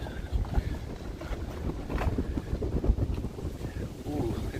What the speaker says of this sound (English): It's so windy that actually the gimbal is shaking from the wind.